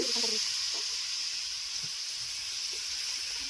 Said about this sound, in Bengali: মশলাগুলো ভালো করে ভাজা হয়ে যাওয়ার পরে আমি এখানে হাঁসের মাংসগুলো দিয়ে দিচ্ছি